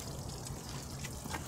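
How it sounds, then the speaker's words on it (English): Water trickling down the rocks along a steep hillside trail at Suicide Cliff in Hong Kong, a quiet, continuous wash of burbling with small splashy flickers, heard alone without talk. "There's some water."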